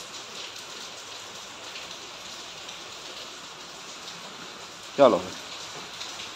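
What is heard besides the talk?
rain falling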